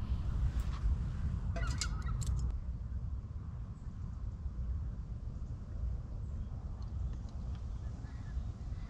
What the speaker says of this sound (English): There's a lot of geese